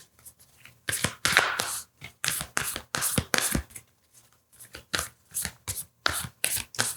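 Tarot oracle cards being shuffled by hand, a series of crisp riffling bursts in close succession with short pauses between, near and alone.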